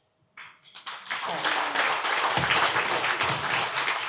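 Audience at a municipal campaign meeting in Morne-à-l'Eau bursts into applause after a brief pause, building quickly into steady, dense clapping from a sizeable crowd that holds loud and full.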